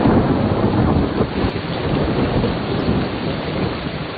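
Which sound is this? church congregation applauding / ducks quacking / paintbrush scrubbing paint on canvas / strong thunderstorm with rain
strong thunderstorm with rain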